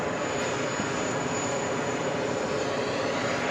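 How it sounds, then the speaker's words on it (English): A JetBlue jet airliner taxis to park at JFK airport, its engines giving a steady, loud broadband roar with a high whine throughout, close by and with no talk. "Parking this JetBlue, freshly painted as well."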